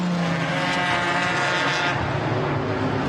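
A GT4 race car at the Nürburgring pushes hard on a qualifying flying lap, its engine a continuous loud roar rising and falling through the gears.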